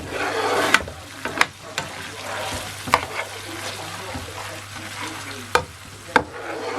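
Garlic fries in butter in a pan as the base for sweet chili prawns, a steady close sizzle with occasional sharp clicks and taps of stirring.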